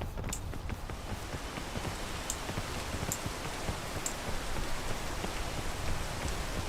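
Steady, dense rain falls in a video game, an even hiss of countless drops pattering on surfaces with occasional sharper ticks, continuous and fairly soft throughout.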